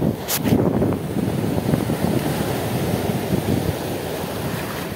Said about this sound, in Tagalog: Napakalaki ng mga alon.